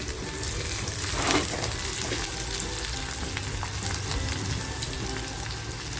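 Onion and green chilies sizzle steadily in a pan, a continuous close frying hiss with a brief louder burst early on as the chilies go in, no voices.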